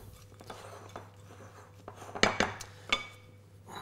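Christmas pudding ingredients are mixed in a bowl, with quiet scraping and a few sharp clinks of utensil against dish over a low steady hum, no talking.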